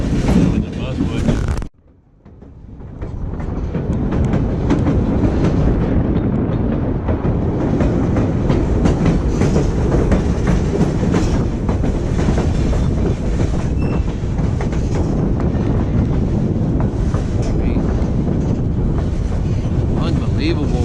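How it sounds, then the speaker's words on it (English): The Skagway scenic railway train runs steadily along the tracks, giving a loud continuous rumble with clickety-clack and some wheel squeal. Wind buffets the microphone, and after a short dip near the start the noise holds for about twenty seconds. "How long you said the train ride was?"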